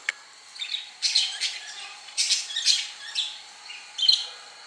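Pet lovebirds at home give a series of shrill squawks and chirps in uneven bursts, close and fairly loud, with short gaps between calls and no talking.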